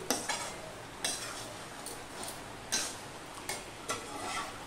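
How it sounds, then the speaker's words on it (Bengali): Ghugni masala sautéing in a pan, heard as a soft, low sizzle broken by several sharp spatula scrapes and clicks spaced irregularly, fairly quiet and close, with no voices. "দেখো মিনিট খানিক আমি এইভাবে কষিয়ে নিয়েছি।"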